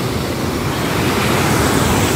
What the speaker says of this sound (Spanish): así se ve el río de Las Grutas de Tolantongo a las 7 de la mañana en sábado.